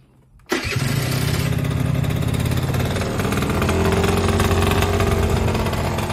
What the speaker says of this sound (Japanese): エンジン一発始動、バッチリですよー。